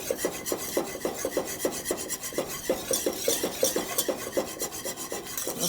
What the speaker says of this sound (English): I'm going to mix this well